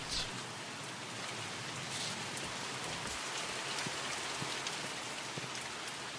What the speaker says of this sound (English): Don't want to get any rain in the car.